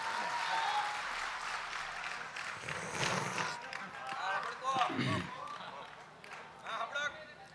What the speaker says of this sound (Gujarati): દાદાને જોરદાર તાળીઓના નાદ સાથે વધાવો.